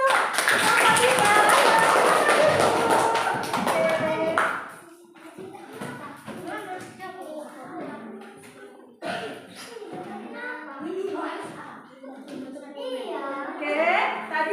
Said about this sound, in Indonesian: Kasih aplaus dulu untuk Bapak Dina.